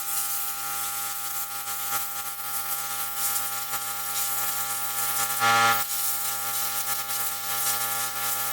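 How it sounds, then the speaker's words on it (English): Brake cleaner is sprayed from an aerosol can onto a GMC Safari van's bumper, giving a steady close hiss over a constant mechanical hum, with a louder burst of spray midway. "I'll go spray it with some brake clean"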